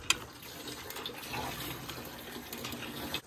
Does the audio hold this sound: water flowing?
yes